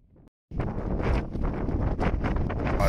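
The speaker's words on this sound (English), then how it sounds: "Oh, this wind is not messing about." Strong wind of around 35 mph battering a tent at a hilltop wild camp, a sudden loud continuous roar of buffeting gusts and flapping fabric close to the microphone, with no talk.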